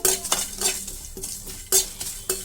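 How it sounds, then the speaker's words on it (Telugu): Peppercorns and whole spices fry in a pan for chicken dum biryani, sizzling under sharp metal spoon clinks and scrapes against the pan at irregular intervals, close up. "మిరియాలు అన్నీ వేయాలి ఇంకా వేసి బాగా ఫ్రై చేసుకోండి సిమ్లో పెట్టుకొని బాగా వేయించుకోండి"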